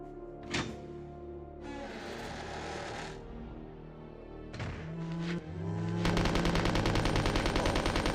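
Dual-wielded submachine guns firing in a Resident Evil game: a few separate bangs and clanks, then a sustained rapid automatic burst at the end over a tonal game soundtrack.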